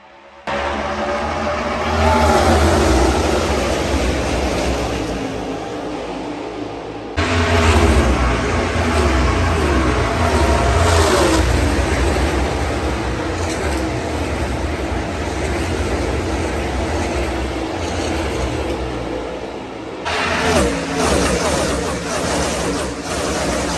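A pack of NASCAR trucks roars away at the green-flag start at Michigan, engines droning loud and continuous under a race commentator's talk.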